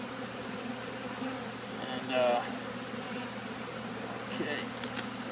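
Honey bees swarm around comb being cut out of a bay window, a steady close buzzing hum throughout with brief louder passes, under occasional quiet speech and handling noise.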